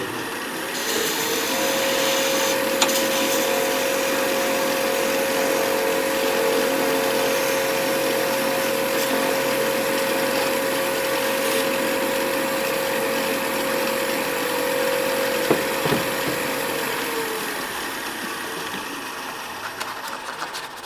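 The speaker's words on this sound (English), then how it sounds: "I'm just going to use a homemade parting tool here" A homemade parting tool parts off a wood turning on a lathe, giving a steady, close, sustained whine over a broad rough scraping hiss that stops with a small knock near the end; no one speaks.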